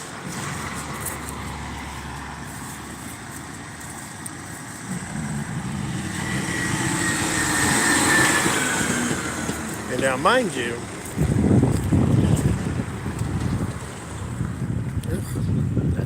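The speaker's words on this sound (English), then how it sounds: "It's a garbage truck." A garbage truck rumbles past outside a house in the morning, its engine rising from a low background drone to a loud, close pass with brief mechanical whines, while a person talks briefly over it.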